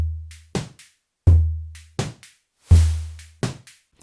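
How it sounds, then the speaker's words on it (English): Sonic Charge Microtonic drum synthesizer playing organic-sounding electronic drums: deep booming kick hits alternating with short snappy and noisy hits in a sparse, steady pattern, clean and alone. "Microtonic, which is the Sonic Charge drum machine, where there's no samples. It's kind of like a drum synthesizer."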